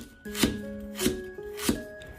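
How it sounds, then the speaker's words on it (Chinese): A kitchen knife slices a piece of fresh ginger into thin pieces on a cutting board, three crisp, evenly spaced chops close up in a quiet kitchen. "接下来再准备一块生姜，切成薄片"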